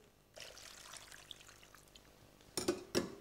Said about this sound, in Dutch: Dan doen we een klein bodempje water onderop.